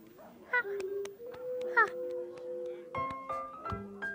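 Cartoon dog show with several dogs giving short barks and yelps amid tonal, musical background sounds, fairly close and moderately loud.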